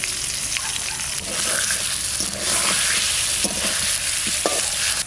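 Potatoes frying in hot oil in a village-style kitchen, a continuous loud sizzle broken by scraping stirs and sloshing, with no speech over it.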